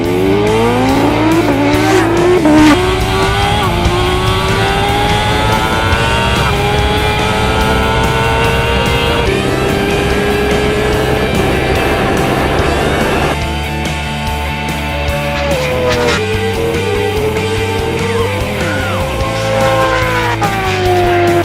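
Kawasaki H2R and BMW S1000RR superbikes accelerate hard from a standing start over 1000 metres, engines screaming loudly and rising in pitch through repeated gear shifts, with no voices.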